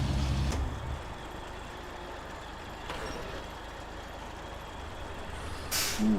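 Truck air brakes in the SnowRunner video game, sharp hissing releases punctuating a steady engine rumble, one at the start, one midway and a louder one near the end.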